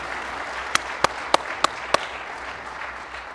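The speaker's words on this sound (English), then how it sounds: "If I could get one more round of applause for our city manager" At a football banquet, about five sharp, evenly spaced claps stand out above a low room murmur, a brief thin round of applause.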